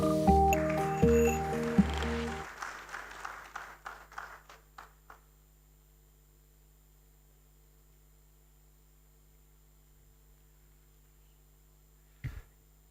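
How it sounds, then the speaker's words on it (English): Applause at an online International Customs Day celebration, a burst of clapping that quickly thins to scattered claps and fades to near silence, with a faint low hum throughout and one brief knock near the end. "Thank you very much for the applause."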